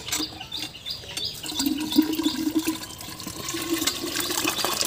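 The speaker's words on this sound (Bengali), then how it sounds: "তো মোটর চালিয়ে এই যে পুকুরে জল দেব" A motor pump sends water gushing into a village pond, a continuous rushing, splashing flow that swells slightly over time while faint bird chirps sound in the background.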